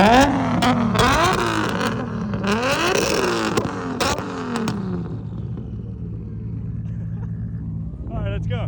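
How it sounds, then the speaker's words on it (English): Nissan Skyline GT-R, an R32 or R34, revving hard in repeated rising and falling bursts, loud and close, then settling to a steady rumbling idle, with voices talking nearby. "Ask him to rev it, he's crazy."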